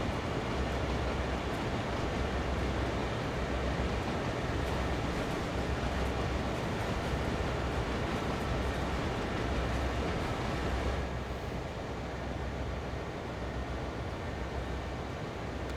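A locomotive in the Train Sim World 2 game labours under throttle on the Cane Creek line, a steady broad rumbling drone with a low pulsing beat, continuous and fairly loud, with no voices.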